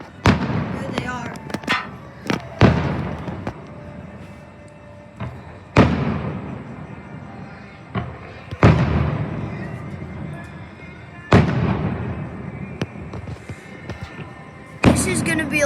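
Hotel fireworks show outdoors: a long run of booming shells and sharp cracks, each trailing off in a decaying rumble, with a few quieter pops in between and nearby voices talking throughout.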